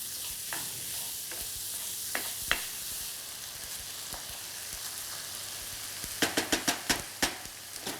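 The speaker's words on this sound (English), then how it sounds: "keep breaking it up into smaller pieces as the meat's browning" Minced meat browns in a pan for lasagne, a soft background sizzle broken by sharp spatula scrapes and taps as the mince is chopped apart, the knocks growing quicker and louder near the end.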